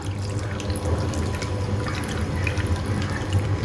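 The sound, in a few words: pouring water into cooking pot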